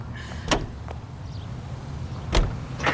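Car sounds in the LA Noire video game: a low steady engine rumble runs throughout, with two sharp door-like thumps, one near the start and one near the end, and no talking.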